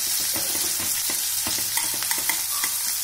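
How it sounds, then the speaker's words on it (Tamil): Curry leaves and chopped onion sauté in a pan for a varagu rice kichadi, with a steady close sizzle broken by a few soft scraping stirs. "இப்போ கருவேப்பிலை, வெங்காயம், கொஞ்சம் நல்லா வதக்கட்டுங்க."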